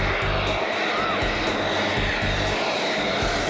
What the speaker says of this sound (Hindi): गाड़ियों के दौड़ने के लिए बनी सड़क पर लड़ाकू विमानों का उतरना, एक्सप्रेसवे का रनवे बन जाना